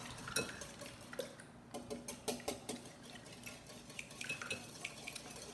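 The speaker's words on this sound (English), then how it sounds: "I'm going to break up my yolks. And then just whisk those together" Eggs being whisked in a bowl make quick, light clinking taps of a whisk against the sides, faint and close, in uneven bursts with no talking.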